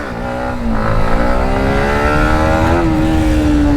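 A Yamaha MT15 motorcycle pulls in second gear, its engine note loud and close, climbing steadily in pitch and droning on without a break.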